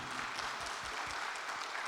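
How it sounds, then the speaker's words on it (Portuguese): Applause from a church congregation for a group being congratulated, a steady, moderately loud patter of clapping lasting a couple of seconds with no clear voices over it. "Vamos aplaudir eles?"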